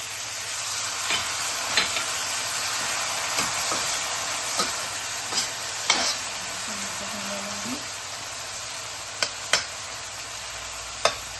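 Chopped onion with turmeric, salt and tomato sizzles steadily in a pan for kale bhaji with mung dal, a constant close frying hiss broken by occasional spoon taps and stirring scrapes.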